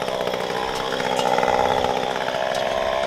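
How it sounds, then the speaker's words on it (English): A chainsaw runs steadily at high revs while trimming a tree, a continuous loud buzzing whine held for the whole stretch with no pauses. "Trimming the tree."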